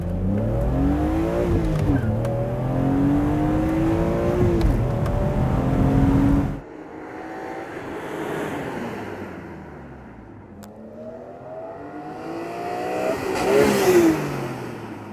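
A high-revving BMW Z4 M engine with a manual gearbox accelerates hard, climbing through gears with rising pitch, cutting off sharply, then building again to a loud, screaming pull.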